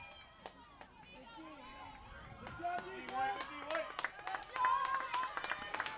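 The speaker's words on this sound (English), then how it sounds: "Cardinal fans applauding the defensive effort here with 8 minutes to go." Cardinal fans clap and cheer at a girls lacrosse semifinal between Greenwich and Wilton, a scattered, building patter of applause from a crowd over game noise and a commentator's voice.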